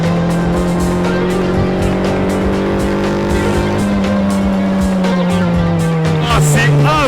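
A Formula 4 race car driving on a track, its engine a loud close sustained drone that shifts pitch steadily through the run, with tyre noise and a rising whine near the end, and a voice speaking over it.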